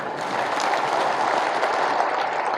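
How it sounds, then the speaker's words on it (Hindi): Large crowd at an outdoor political election rally applauding, a dense, continuous wash of clapping that stays loud and even throughout. "पूरा रैली स्थल तालियों से गूंज उठा।"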